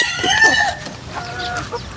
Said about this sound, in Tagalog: Tapos marami din mga manok dito si pare.